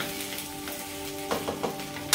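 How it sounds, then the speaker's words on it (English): Okra frying in a pan for a curry, a continuous crackling sizzle with a few brief stirring scrapes near the end, with soft background music. "So we fry the okras for a few minutes until the color changes."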